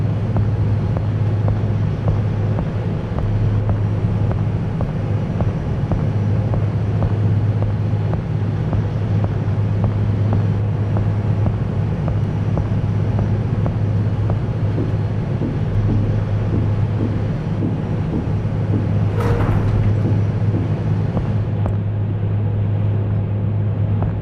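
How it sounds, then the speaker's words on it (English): Ship engines rumbling steadily in the ship simulator Seafarer the Ship Sim, a constant low drone with wind-like noise over it, continuous throughout and without speech. "Why can I still hear the engines when we have no fuel?"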